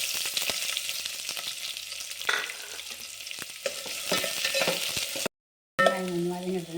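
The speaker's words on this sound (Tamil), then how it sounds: "இப்போ மீதி இருக்கிற வெங்காயத்தை போட்டுக்கலாம்." Onions sizzle and fry in hot oil with curry leaves for a lentil dumpling curry, a steady dense crackle with stirring scrapes, briefly cut to silence near the end before the frying resumes.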